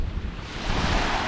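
Steady outdoor wind blowing hard against the microphone, a broad rushing roar with low buffeting gusts that swell slightly toward the end, with no voices.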